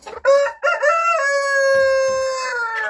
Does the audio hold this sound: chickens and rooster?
yes